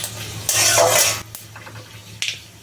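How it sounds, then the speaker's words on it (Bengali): Bay leaves, cardamom pods and black mustard seeds hit hot oil in a pan for a Bengali mango chicken tempering, giving a loud burst of sizzle and clinking utensils at the start, then quieter crackling with a few sharp pops. "এবার দিয়ে দিচ্ছি 2টো তেজপাতা, 2টো এলাচ"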